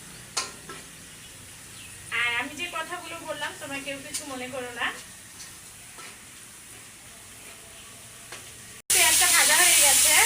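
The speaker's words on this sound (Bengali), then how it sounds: "একটু বাদামি কালার করে ভেজে নেবো আগে" Koi fish and eggplant fry in oil in a home kitchen, a sudden loud, steady sizzle that bursts in near the end after someone talks over a quieter background.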